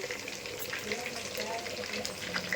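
Bommidayi fish curry simmers in a pot, a soft steady bubbling and sizzle heard at low level throughout.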